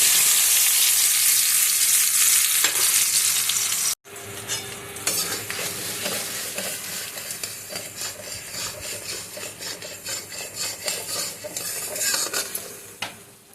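Spice paste for a pomfret fish curry with potato and eggplant drops into hot oil in a pan, a loud steady sizzle at first, then continuous frying under scraping, rhythmic stirring of the spoon against the pan.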